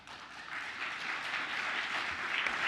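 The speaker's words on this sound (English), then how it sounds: "That was an applause break." Applause from the audience at a county school board meeting, a steady wash of clapping that holds for nearly three seconds at moderate loudness with no voices over it.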